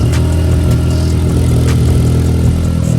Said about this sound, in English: Idling a little weird.